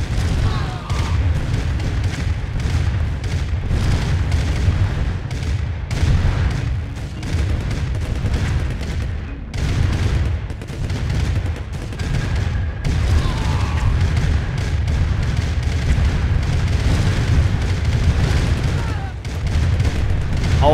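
Explosions and artillery fire from a Command & Conquer: Red Alert 4 vs 4 esports match, a dense, continuous barrage of booms and gunfire, loud and unbroken for the whole stretch.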